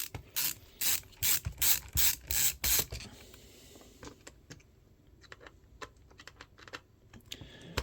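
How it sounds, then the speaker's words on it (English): An LTT ratcheting screwdriver works screws out of a Nintendo Switch Online SNES controller, opening with a rapid run of about ten loud, evenly spaced ratchet clicks, then quieter scattered ticks and clicks of handling at close range. "Yep, the LTT screwdriver. It's a bit long, but it'll work."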